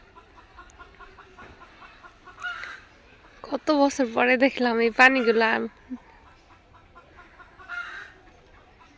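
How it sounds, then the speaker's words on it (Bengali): Chickens cluck in a rural village yard, with a loud burst of calls in the middle and fainter ones around it, while people talk nearby. "কতদিন পরে মুরগির ডাক শুনতেছি"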